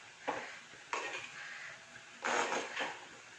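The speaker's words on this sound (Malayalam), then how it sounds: "നമുക്കൊന്ന് ഇളക്കി നോക്കാം" A spoon stirs cooked papaya thoran in a pot, giving a few short bursts of scraping and clinking, close and moderately loud, with quiet pauses between the strokes.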